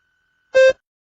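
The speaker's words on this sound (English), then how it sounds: "Begin to prepare your response after the beep." A single short electronic beep from a TOEFL speaking practice test, loud and clean, lasting about a quarter second amid silence.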